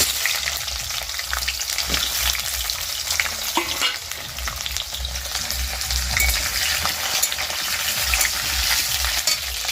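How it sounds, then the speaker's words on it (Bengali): Potatoes frying in oil in a home kitchen, a continuous bright sizzle with crackling pops and occasional stirring clatter, close and steady throughout. "আমি ততক্ষণে আলুটা ভেজে নিই।"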